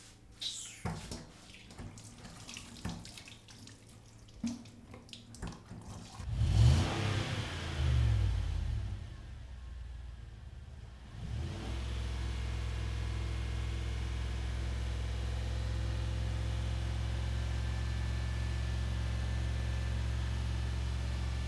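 A car engine revs, then settles into a loud, steady drone close by after a brief lull, with no one speaking.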